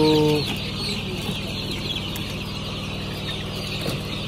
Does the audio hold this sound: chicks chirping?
yes